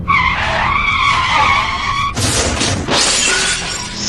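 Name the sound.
sound effect of a truck crashing into a tree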